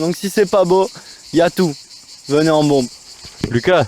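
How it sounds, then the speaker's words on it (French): Cicadas singing outdoors on a hike near Ventabren and its aqueduct, a steady high buzzing drone running continuously beneath someone talking. "il y a les cigales qui chantent"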